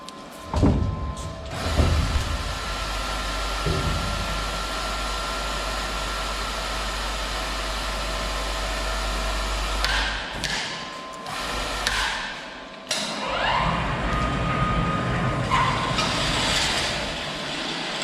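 A Clad Boy CB3 lifter for vertical wall panels lifts its load with a steady mechanical drone and engine hum, broken by a few clunks and shifts near the middle and end.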